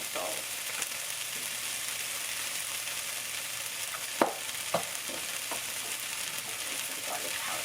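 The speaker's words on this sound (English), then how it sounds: "Into this pan, I'm going to go ahead and just soften up these onions a little bit." Onions soften in a frying pan with a gentle continuous sizzle, a few light clicks and scrapes of a utensil midway, close and alone.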